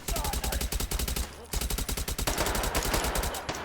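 Rapid automatic bursts from a gun in a first-person shooter game, loud and close, rattling off in fast strings with a brief pause midway before firing resumes.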